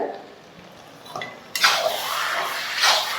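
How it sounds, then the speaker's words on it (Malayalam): Beef roast and onions being stirred in a pan. The scraping and clinking starts quietly, grows louder after about a second and a half, and continues steadily with no talking. "സവാളയും ചേർത്ത് കഴിഞ്ഞ് വീണ്ടും നന്നായിട്ടൊന്ന് മിക്സ് ചെയ്ത് കൊടുക്കുക"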